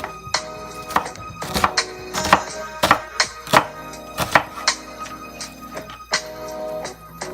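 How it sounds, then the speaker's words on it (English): A knife chops half an onion into big chunks on a cutting board for Jamaican jerk chicken, a series of sharp, irregular close thuds with short pauses between cuts, with no talking. "And I kind of like big chunks of onion, so I'm not cutting these up real fine."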